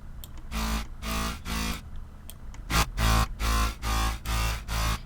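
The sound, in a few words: distorted synthesizer sound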